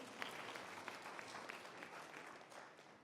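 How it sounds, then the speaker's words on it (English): A crowd applauding steadily, a dense wash of clapping that holds throughout and fades slightly at the end. "Round of applause, please."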